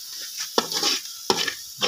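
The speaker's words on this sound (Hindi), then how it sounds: "लो जी गोश्त डाल दिए इसके अंदर" Meat frying in a pot over a village cooking fire, with loud crackling sizzle broken by two sharp scraping stirs of a utensil against the metal, no talk.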